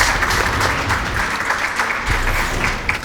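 A burst of audience applause for a rapper at a live rap battle event, dense clapping that holds steady for a few seconds without speech.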